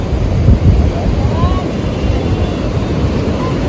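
A fast-flowing flooded river in Nashik rushes in a loud, continuous roar, heavily buffeted by wind rumble against the microphone, with a faint voice briefly audible in the background.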